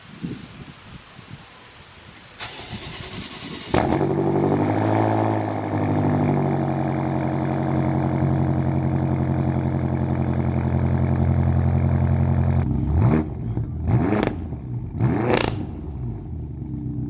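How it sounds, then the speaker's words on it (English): Cold start of a 2014 BMW F10 M5 with the twin-turbo S63 V8: a short starter whine, then the engine catches with a loud flare and settles into a steady, rumbling high idle, with a few brief blips near the end. "This is a cold start."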